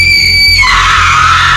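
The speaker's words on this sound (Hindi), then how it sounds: "अचानक किसी की चीखने की आवाज से मेरी नींद टूट गई।" Woman screaming in a cartoon horror story, one loud, piercing, sustained shriek that shifts pitch partway through over a low droning background.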